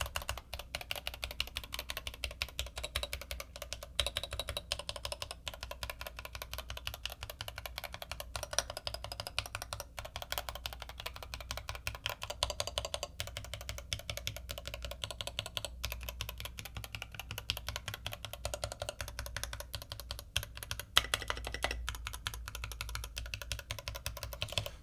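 Individual key presses on an Idobao ID67 65% keyboard fitted with Kono keycaps, a steady stream of close, crisp clacks repeating at a brisk, even pace without pause.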